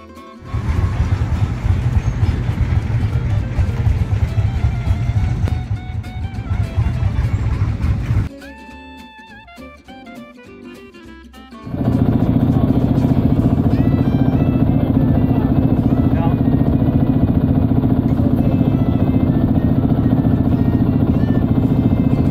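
Old Lanz Bulldog tractors run at an outdoor vintage tractor meeting. A loud, steady engine drone shifts partway through, with clattering mechanical noise and a brief quieter stretch before a louder, rougher engine sound takes over, and no talking.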